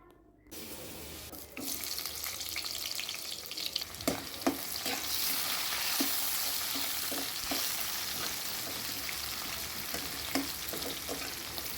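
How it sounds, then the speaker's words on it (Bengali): Onion sizzles loudly in hot oil with whole spices, a dense crackling hiss that starts abruptly and carries on steadily, punctuated by repeated light scraping stirs. "আর এখন আমি পেঁয়াজটা খুব ভালোভাবে তেলে বেজে তারপরে মশলাগুলো কষাবো"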